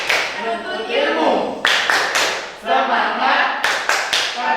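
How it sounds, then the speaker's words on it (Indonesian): A classroom group joins in rhythmic spirit clapping (tepuk semangat), sharp hand claps in quick patterned bursts between spoken call-outs from a leader. "Ikuti tepuk semangat saya. Tepuk semangat."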